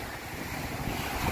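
Ocean waves wash onto Alameda Beach in a steady, loud rushing surf mixed with wind noise, continuous and close throughout with no voices.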